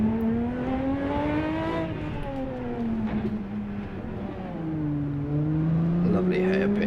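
A Ferrari 512S racing engine in the Assetto Corsa game revs hard and steadily, its loud droning tone climbing and then dropping at each gear change, several shifts in a row.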